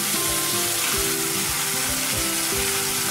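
Chopped tomatoes hit hot oil in a pan while cooking Chettinad potato fry, giving a loud, continuous sizzle with stirring sounds underneath.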